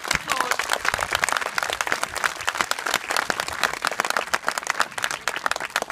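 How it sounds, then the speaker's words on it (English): A small group applauds with dense, steady clapping that fills the whole stretch, close and fairly loud without pause. "give her an applause"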